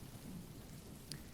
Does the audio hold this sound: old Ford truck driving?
no